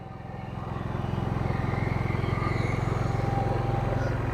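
A Pulsar 9500-watt dual fuel inverter generator engine hums steadily with a fast, even pulsing throb, rising slightly in level at the start and then holding constant, fairly close, facing the exhaust.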